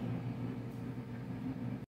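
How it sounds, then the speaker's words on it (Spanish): A kitchen refrigerator hums steadily with a low, constant mechanical drone close by, running alone without talk before cutting off abruptly. "disculpen el ruido del refri"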